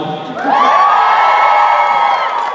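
A large crowd at a Chicon Supernatural convention panel bursts into loud cheering and whooping after a brief quieter moment, the roar staying strong and sustained to the end.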